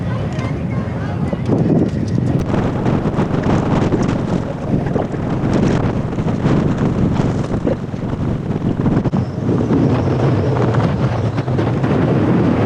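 Strong wind at a MotoGP track buffets the microphone in a loud, steady roaring rush that holds throughout with gusty swells and no break.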